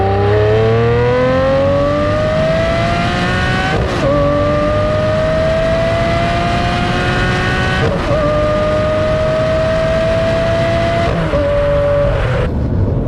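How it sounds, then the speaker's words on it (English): A Lamborghini Murcielago engine screams at a high pitch, climbing steadily through several revs with brief dips between shifts, loud and close, with no talking. "The Murci has that high-pitched sound which is unique to all my cars."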